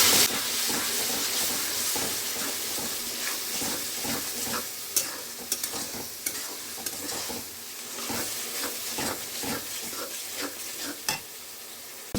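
Ground garlic, green chilli, raw tomato paste, onion paste and Kashmiri chilli powder sauté in oil in a pan, a soft continuous sizzle broken by frequent spatula scrapes and taps as the mixture is stirred.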